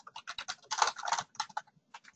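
Quick bursts of keystrokes on a computer keyboard as a title is typed, irregular clicks clustering into rapid runs with short pauses, close and fairly quiet.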